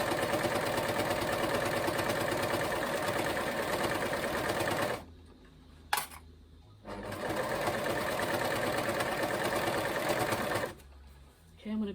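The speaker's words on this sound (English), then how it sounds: "I'm literally just going to put that under and start sewing it" A sewing machine stitches a satin pillowcase with a steady, fast mechanical whir that runs loud and close, stops briefly mid-way with a small knock, then starts again before a final pause.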